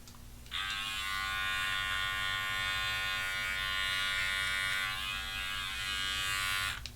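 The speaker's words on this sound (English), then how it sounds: "remove the hair from your ears. The Andis trimmers can do that too" Rechargeable Andis trimmer buzzing steadily while removing ear hair, a close, continuous electric hum that switches on after a brief pause and runs unbroken for about six seconds before cutting off.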